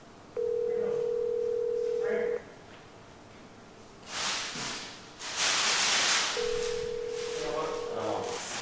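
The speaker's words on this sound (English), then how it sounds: "I'm calling Carter" A phone call's ringback tone, two long steady tones separated by a pause, loud and close, with rustling and a voice murmuring between them.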